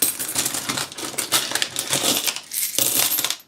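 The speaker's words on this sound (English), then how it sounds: "The penny has dropped, literally. That is a 1p piece that's dropped on the table" Small UK 1p, 2p and 5p coins tumble out of a Doggy Bank coin bank onto a table, a rapid close clatter of metallic clinks and rattles that stops abruptly.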